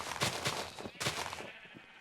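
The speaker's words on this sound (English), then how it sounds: "Hey, sheep, get through the hole." Sheep in the Minecraft video game bleat in a rapid series of short, wavering cries, several overlapping calls over about two seconds, fairly close and clear with no talking.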